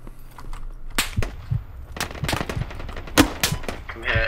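Rapid gunfire from the military shooter game Squad, with dense bursts of automatic rifle shots and sharp single cracks layered close and farther off, a short chaotic exchange.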